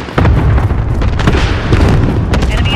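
Cluster strike explosions in Call of Duty Modern Warfare, a loud burst of overlapping booms and crackling blasts rolling on for a few seconds, close and heavy, with announcer voices partly under the noise.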